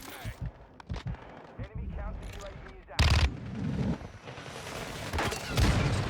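Warzone 2 gameplay carries rapid bursts of gunfire and sharp shots mixed with in-game effects, loud and close, while a player talks over the action.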